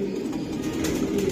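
Racing pigeons cooing in a loft at a sale, low soft murmuring coos repeating under faint background noise, moderately quiet and close.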